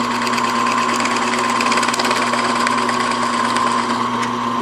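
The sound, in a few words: Forstner bit drilling corners in wood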